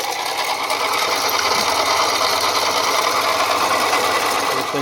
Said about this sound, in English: So here you can see the AC compressor. You can hear it. The bearings are shot out on it.